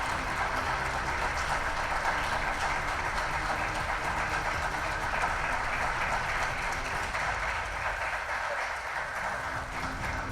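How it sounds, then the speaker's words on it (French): A school quiz-show audience keeps up dense, continuous applause as student teams walk to the podium, a steady wash of many hands lasting about ten seconds, even and fairly loud. "applaudissez jusqu'à leur arrivée sur le podium"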